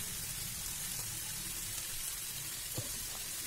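Ginger and garlic, one piece of ginger and ten cloves, sauté in hot oil with cooked-down tomatoes for an egg gravy, giving a steady, close crackling sizzle throughout with no talk.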